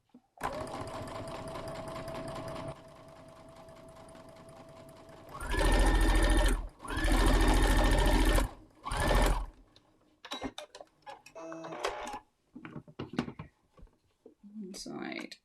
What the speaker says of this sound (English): I'm at my machine and I'm going to stitch 1/4 inch either side of this central line